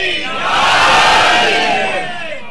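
Large crowd at a religious celebration in an imambargah in the UAE loudly chanting slogans in unison, a sustained swelling roar of many voices.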